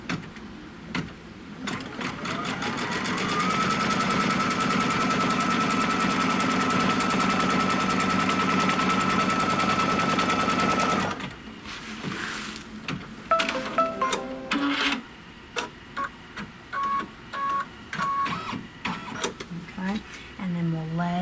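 An embroidery machine stitching a placement line for a top border in the hoop, a loud rapid needle rattle running steadily for several seconds, then stopping and giving way to scattered clicks and short mechanical bursts.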